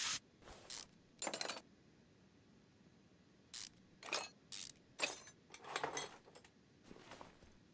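Bolts being unscrewed from a drive shaft in the game Car Mechanic Simulator 2021: a series of short, sharp ratcheting mechanical bursts, about a dozen, spaced irregularly with quiet gaps between them.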